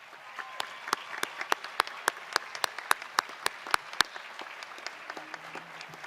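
Sparse graduation audience applause at a 2021 high school ceremony, a dozen or so distinct individual claps standing out over a murmuring crowd, fairly distant and thinning toward the end.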